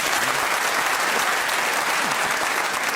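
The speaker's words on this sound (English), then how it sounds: "We needn't clap every correct challenge." A studio audience at a radio panel game claps in a dense, even burst of applause that holds steady for a few seconds.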